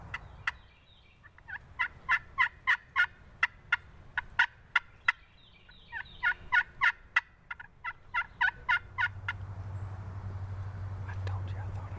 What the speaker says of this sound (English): Probably got a big old boss gobbler behind her.